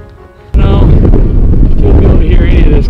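Strong wind buffets the microphone high in the Montana mountains, a sudden loud roar cutting in after a quieter start and staying heavy and continuous, with a voice partly mixed in.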